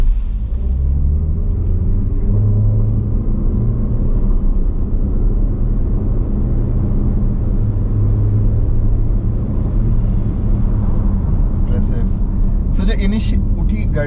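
Haval H6 HEV hybrid SUV accelerating hard during a 0-100 km/h test, a steady loud low engine and road rumble heard from inside the cabin throughout, with people talking over it.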